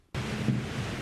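Steady wind blows on the National Mall in Washington, D.C., a broad, rushing roar that starts abruptly and stays loud and continuous, buffeting the microphone with low gusts and no voices.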